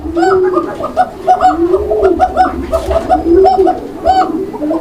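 Fancy pigeons in a loft coo repeatedly in a steady, overlapping rhythm, several birds calling close by with soft rolling notes and no talk.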